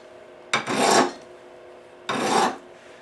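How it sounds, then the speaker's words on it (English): A hand metal file rasps across the edge of a steel plate being beveled to a knife edge for stick welding, two long close strokes separated by a short pause. "I can just run across like that by tilting the file up and just cutting it off there"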